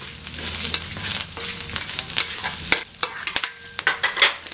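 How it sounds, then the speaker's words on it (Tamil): Pieces of coconut roasting crisp in a pan for chutney, with a steady dry sizzle broken by repeated spatula scrapes and clatters, close and fairly loud. "மொறுன்னு நல்லா வறுத்தாச்சு."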